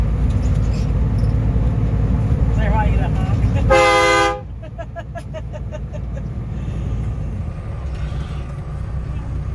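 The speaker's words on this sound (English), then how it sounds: "I want you to honk." Big truck horn honking: a loud, sustained blast about half a second long cutting through steady engine rumble and cab noise, with faint voices nearby.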